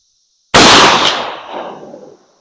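A single loud shotgun blast firing a slug with an LBC-50 wad used as a sabot, a sharp report followed by a long rolling echo that fades over about two seconds outdoors.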